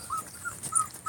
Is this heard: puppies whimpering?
yes